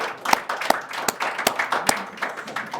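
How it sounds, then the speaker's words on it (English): An event audience claps for the sponsors in a short, fairly close burst of scattered handclaps with distinct individual claps standing out, lasting a few seconds. "So big round of applause for our sponsors today."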